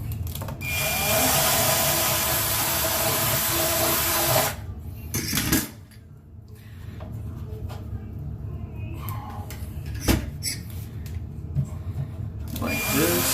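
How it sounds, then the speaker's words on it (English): A power drill whirs loudly for several seconds drilling a hole for a wall anchor, then stops; afterward, intermittent clicks and handling noises follow. "Again, find your drill bit, drill your hole."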